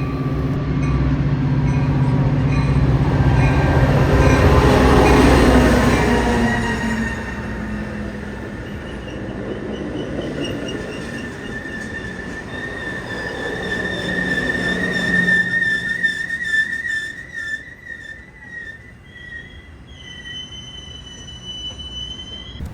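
A train rolls through a station near Chicago, its heavy rumble swelling loud up close with squealing wheels, then fading into a thinner metallic whine and screech as it moves away.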